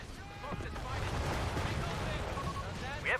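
Machine gun fire in the real-time strategy game Company of Heroes 3, a sustained rattling burst of distant-to-mid range shooting amid battlefield rumble, with a sharper crack near the end.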